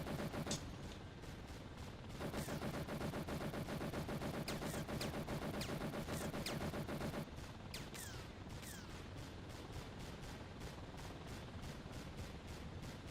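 Helicopter gunfire in the video game Thunder Helix: sustained rapid-fire bursts of cannon or machine-gun shots over a steady rotor drone, with a brief pause before the strafing runs continue loud and dense.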